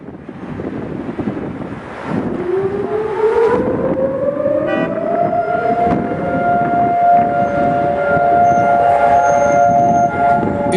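Civil defense sirens wail on Holocaust Remembrance Day in Jerusalem, a long rising tone swelling into a steady sustained blare over wind and distant traffic, loud and continuous.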